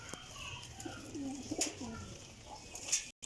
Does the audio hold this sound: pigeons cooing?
yes